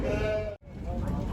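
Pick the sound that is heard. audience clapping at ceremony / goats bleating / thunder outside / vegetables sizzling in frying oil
goats bleating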